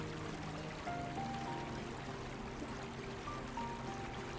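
An Alaskan salmon river flows with a steady, full rush of water, continuous and fairly close throughout, with no voices over it.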